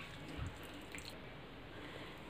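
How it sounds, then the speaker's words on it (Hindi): Salted grated radish (mooli) for paratha filling is squeezed by hand, releasing a faint, steady trickle and drip of water into a bowl, quiet and close with no talking. "ऐसे करके हम सारा पानी इसमें से निकाल देंगे"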